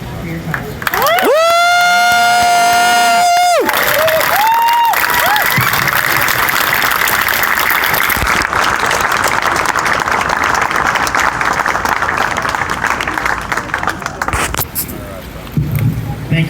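A protest crowd at City Hall breaks into sustained applause and cheering that carries across the scene. Its opening is masked by a loud, siren-like wavering tone, and there are scattered voices and bumps.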